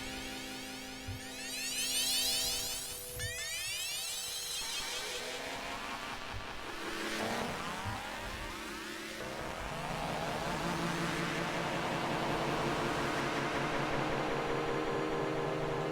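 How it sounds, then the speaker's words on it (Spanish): An Alesis Micron synthesizer drone layered with noise and FM modulation, a loud, continuous, gritty and swirling tone with sweeping, warbling textures that thickens toward the end, with no voices. "añadiendo ruido, añadiendo FM."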